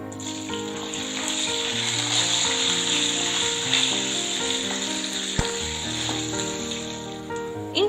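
Garlic and ginger fry in hot oil in a pan for chutney, giving a steady, close sizzle throughout with faint tonal hum beneath and one brief clink near the end; no talk.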